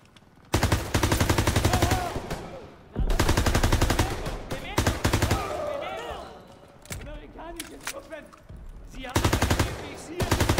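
Bursts of rapid automatic fire from an MP40 submachine gun in Call of Duty: WWII, loud and sustained in long rattling strings separated by short pauses, with players talking over and between the bursts.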